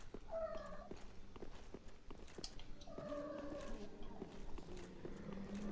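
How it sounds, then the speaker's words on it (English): A cat meows in drawn-out, wavering cries, once early and again in a longer stretch, fairly faint under background game sound and light clicks. "Cat noises."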